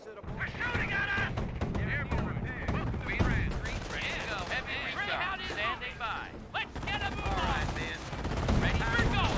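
Dense gunfire from the Company of Heroes WWII strategy game during a 1v1 match on the Wrecked Train map, with rapid machine-gun bursts and rifle shots crackling continuously under in-game soldiers' voices.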